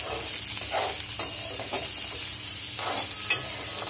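Aloo parval, a potato and pointed gourd curry, cooks in a pan with a low, quiet sizzle and scattered scraping stirs, including a sharp clink near the end.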